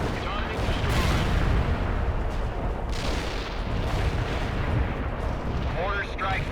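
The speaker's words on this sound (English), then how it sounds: "Artillery barrage used for full effect." Continuous rumbling artillery barrage in the video game World In Conflict, dense overlapping booms and blasts at steady loudness throughout, with a faint chirping tone near the end.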